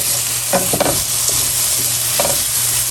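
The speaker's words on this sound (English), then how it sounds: "About halfway through cooking the onions, I'm adding the jalapeno." Onions and jalapeno sautéing in a pan, a loud steady sizzle with a few spoon scrapes and stirring strokes, close up and without talk.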